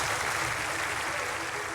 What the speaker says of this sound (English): Please give him a nice round of applause and warm greeting